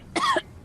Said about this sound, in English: I'm devolved into coughing.